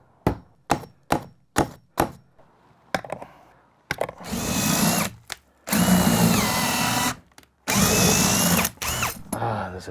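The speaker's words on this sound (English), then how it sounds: "That would save you the step of having to drill the holes" A power drill whines in short repeated bursts, then bores in longer runs through wooden wall studs during a bedroom remodel, loud and close, with brief pauses between holes.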